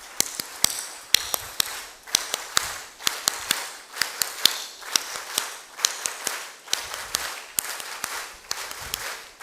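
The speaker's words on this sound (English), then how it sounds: "let us do a 3 club clap for 3 of them" An audience performs a rhythmic three-beat group clap to thank three panelists, producing crisp unison bursts of claps repeated in steady triplets, with no speech over them.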